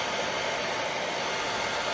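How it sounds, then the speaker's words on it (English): A hair dryer blows steadily and loudly close by aboard a narrowboat during redecorating, a dense continuous roar with no pauses. "just get the air dryer on it"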